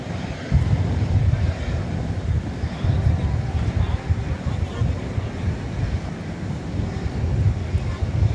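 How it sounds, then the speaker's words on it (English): Strong gusty wind at DFW Airport buffeting the microphone, a continuous broadband roar with low thumps and rumble throughout, loud and unbroken. "Wind is really picking up."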